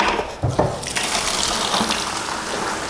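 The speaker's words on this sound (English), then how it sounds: "We're going to fill that with water." Tap water gushing into a car-wash bucket with shampoo added: a steady, close rushing fill with a couple of splashy bursts at the start.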